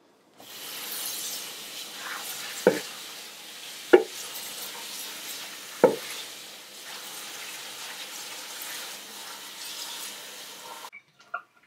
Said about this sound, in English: I'm just going to swish it around